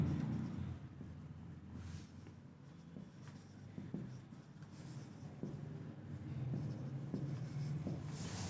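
Coordinates are written out on a board for a coordinate geometry lesson, producing close, soft, scratchy strokes in short uneven bursts over a low room hum, with no talk.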